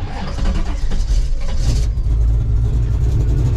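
A car engine fitted with Holley Sniper fuel injection and HyperSpark ignition cranks and fires up, a short broken start followed by a loud, deep, steady rumble close by.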